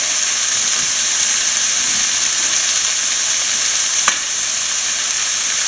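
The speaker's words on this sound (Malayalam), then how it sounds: "നമ്മൾ സ്ക്രാമ്പിൾ ചെയ്ത് വെച്ചിരിക്കുന്ന എഗ്ഗ് ഇട്ട് കൊടുക്കാം." Scrambled egg sizzling and frying in a pan of chicken fried rice, a steady loud hiss throughout with one brief sharp click near the end, no voices.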